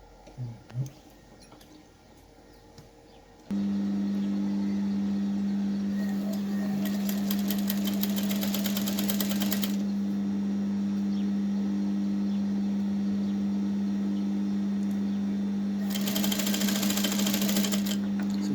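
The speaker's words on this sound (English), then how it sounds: "Then you fold it up and then sew it." Sewing machine stitching a folded strip of fabric for a flared circle dress, a steady close whirring drone that starts after a few quiet seconds and runs continuously, with brighter rattling bursts partway through and near the end.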